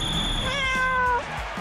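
A cat meows within a playful real-life Pokemon skit, a clear, drawn-out call with rising and falling pitch, heard close and fairly loud over background music and noise.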